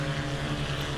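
Steady, close drone of the Black Square B60 Grand Duke piston twin's engines and propellers in MSFS 2024, a continuous even hum with no talk.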